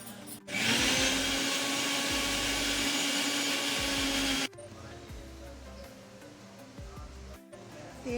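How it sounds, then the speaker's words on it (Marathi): Mixer grinder grinding a spice masala of red chilli powder, black masala and crushed peanuts, a loud whirring motor that runs steadily for a few seconds, then stops abruptly, leaving quieter kitchen noise and a faint voice. "आता मी हे सारं मिक्सरच्या भांड्यामध्ये काढून घेते मसाला"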